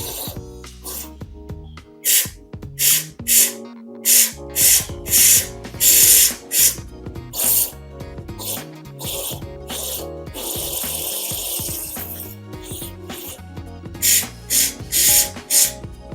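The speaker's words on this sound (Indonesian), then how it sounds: "langsung semprot aja nggak apa-apa." Short bursts of aerosol cleaner hiss onto the throttle body of a Honda Civic Genio/Estilo during a DIY tune-up. About a dozen loud hissing sprays come one after another, with a longer steady spray in the middle and clicks and clatter of tools between them.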